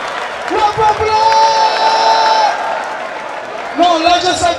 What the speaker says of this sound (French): On applaudit pour le garçon Maïla.